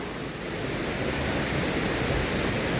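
A strong river current crashes against big rocks, producing a loud, dense, continuous roar of rushing water close by with no break.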